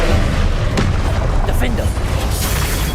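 A Confringo blasting spell explodes in the Hogwarts Legacy video game, a loud booming burst followed by crackling debris and further sharp pops amid game sound effects.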